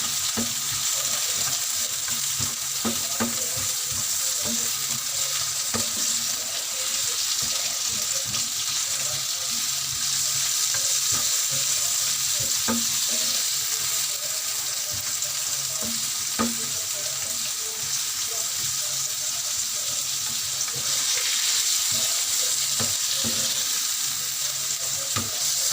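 Onions softening in about three spoonfuls of oil make a steady, even sizzle that runs the whole time, with scattered soft clicks of stirring and no talk.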